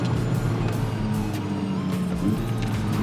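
A 2022 Porsche 992 GT3 sports car drives hard on the road, its steady engine drone sustained and loud throughout, with faint tyre noise underneath and no talk.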